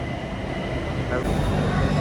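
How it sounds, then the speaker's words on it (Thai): A Bangkok BTS Skytrain electric train pulls in with a continuous rail rumble and a rising electric hum, heard close, with a voice over it. "มาแล้วมาแล้วรถไฟฟ้า BTS"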